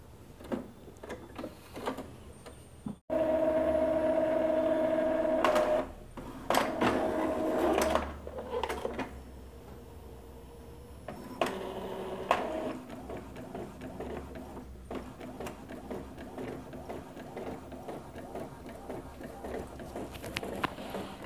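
An Epson L3151 inkjet printer feeding an A4 sheet and printing a network status page, a steady mechanical whir with rhythmic clicking and print-head shuttling, close up, stopping and starting over about twenty seconds.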